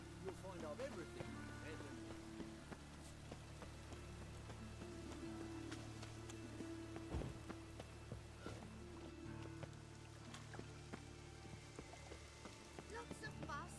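Steady rainfall in The Witcher 3 video game, a soft continuous patter on surfaces heard faintly in the background, with scattered drips and light game sounds mixed in.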